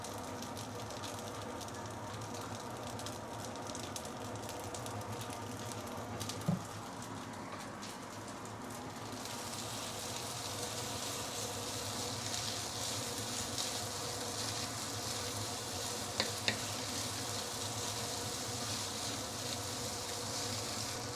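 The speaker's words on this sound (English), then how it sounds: "we are trying to char the noodles and kway teow a bit" Noodles and kway teow charring in a very hot wok with dark soy sauce, a dense continuous sizzle and hiss, loud and close, with a few faint clinks and no talking.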